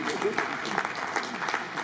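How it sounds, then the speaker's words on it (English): Applause at a housing development programme inauguration ceremony, with a continuous patter of many hands clapping at moderate level and voices mixed in beneath. "Let's clap for them."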